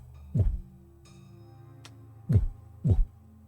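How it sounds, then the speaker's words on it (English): A low, heavy heartbeat thumps in an eerie pattern: three deep, booming pulses spaced unevenly, with the first single beat followed by a closer pair, over a quiet droning hum with no voices. "Like a heartbeat, but it feels wrong."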